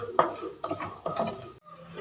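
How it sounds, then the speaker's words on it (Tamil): Rice dry-roasting in a pan while being stirred, for a rice-ball snack: brief scraping and rattling of the grains against the metal, close by, which stops abruptly near the end. "அரிசி நல்லா பொரியிற வரைக்கும் செவக்க நல்லா வறுத்து எடுத்துக்கிறேன்."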